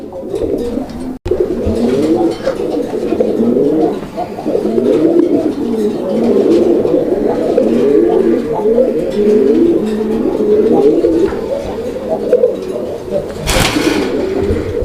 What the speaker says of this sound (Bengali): আর ডাক অলরেডি দেখেছি আবারও ডাকতেছে